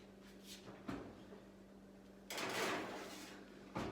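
An oven door opens with a soft creak and muffled clunks, then closes with a louder rush and thud as baking trays are slid inside, close by in a quiet kitchen with a low steady hum.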